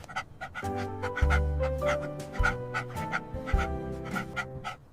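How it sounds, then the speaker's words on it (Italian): A dog pants rapidly and steadily up close, with quick rhythmic breaths and faint whimpery tones mixed in. "Guardo il mio cane."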